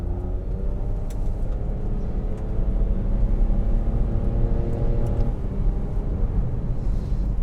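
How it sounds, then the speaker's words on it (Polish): A 2023 Nissan Qashqai e-Power hybrid hums low and builds steadily as it accelerates hard toward 100 km/h, a smooth rising drone close by. "sprawdźmy, jak ten samochód teraz przyspiesza do setki"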